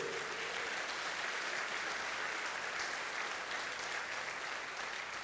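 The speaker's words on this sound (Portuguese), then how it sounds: "Você pode aplaudir ao Cordeiro de Deus?" Church congregation at a Holy Communion service applauds in a dense, even roar that fills the whole stretch without pause, heard alone with no talk over it.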